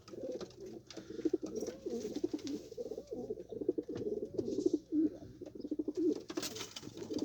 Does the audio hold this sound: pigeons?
yes